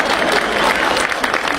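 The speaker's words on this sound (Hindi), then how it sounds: "भाई ताली थोड़ी सी जोरदार कर दो" An audience at a Bar Council of Delhi symposium on lawyers' welfare claps in a brief, dense burst of applause with a voice faintly underneath.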